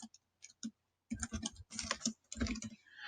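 Someone types on a computer keyboard, quiet close bursts of rapid key clicks separated by short pauses.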